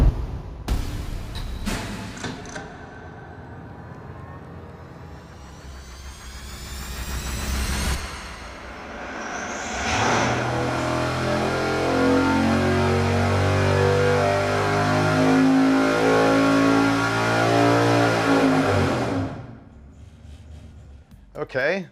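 A carbureted V8 on a dyno burning E85 fuel cranks and idles, then opens into a long, loud pull that climbs steadily in pitch for about ten seconds before cutting off abruptly.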